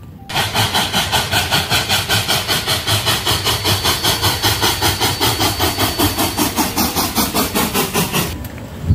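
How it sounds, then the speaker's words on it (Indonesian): Fast, even chugging pulses like a classic train engine from a toy train, loud and close, running steadily before stopping near the end. "Yang ini ada kereta api klasik."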